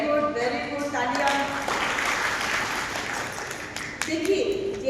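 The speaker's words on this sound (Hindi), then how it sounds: "वेरी गुड, तालियां।" An audience at a pre-wedding and family counselling session breaks into a brief wash of clapping that rises and fades, with a voice speaking over parts of it.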